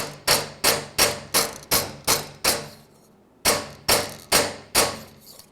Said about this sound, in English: So I hammered it a little bit.